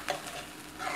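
Crushed canned tomatoes go into a hot pan for spicy chickpea curry, a brief burst of loud, close sizzling and stirring that stays steady, with no talk.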